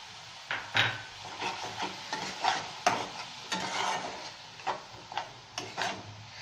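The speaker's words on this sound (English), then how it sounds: "We need to saute it nicely till oil starts to separate." Onion paste sautés in a pan for chicken korma, a faint, close sizzle broken by irregular scraping and stirring knocks, with no voices.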